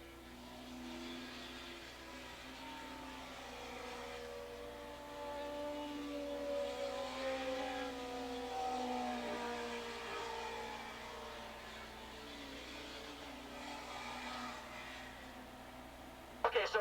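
600 modified production racing motorcycles at Willow Springs Raceway in 1987, a faint rising and falling whine of engines sweeping past at a distance, with steady background noise throughout.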